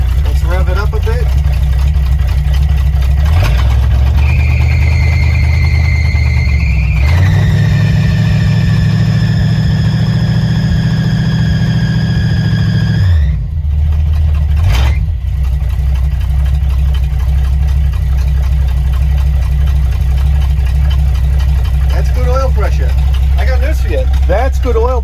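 Car engine rising from a steady idle into a sustained rev lasting several seconds and then dropping back, loud and close, during an oil pressure check.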